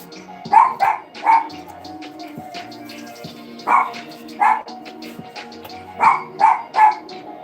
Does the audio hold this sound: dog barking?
yes